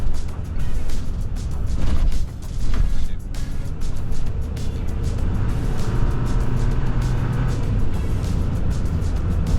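A Kia Bongo 3 truck with a 2.5 LPG turbo engine accelerating on the road, its engine and road noise rising loud and steady from inside the cab.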